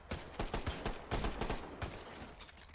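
Rapid repeated gunshots in a video game firefight against Sosig enemies, a steady run of sharp cracks at moderate volume with no talk over them.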